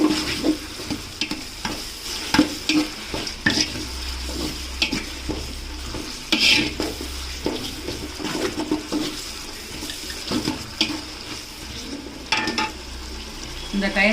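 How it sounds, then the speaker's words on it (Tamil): Mint and coriander being stirred into biryani masala in a pan, giving a steady scraping, sizzling texture with irregular knocks of a spoon against metal throughout, no voices. "கழுவி வச்சிருக்க புதினா கொத்தமல்லி போட்டு கிளறிக்கலாம்."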